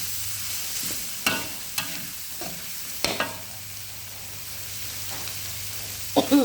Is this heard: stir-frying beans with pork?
yes